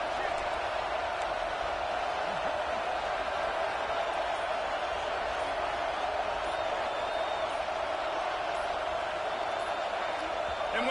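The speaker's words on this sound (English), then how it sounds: "The crowd forces a false start." A loud stadium crowd at a football game roars in a steady, dense wash of noise that holds without break throughout, close and filling the space.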